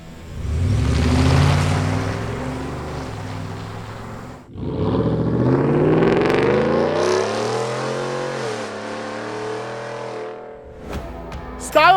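A Ford F-150 with a Borla Attack stainless exhaust, mandrel bends and a straight-through multi-core perforated muffler revs up loudly nearby, with a deep rumble that climbs in pitch, drops off briefly, then revs again before settling.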